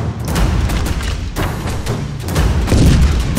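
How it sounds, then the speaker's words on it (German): Cannons fire in the pixel-art pirate game Pixel Piracy, a dense run of loud, overlapping booms and thuds rolling together for a few seconds with no talk. "Also erst nachdem er drei Kanonen abfeuert, dürfen wir rüber."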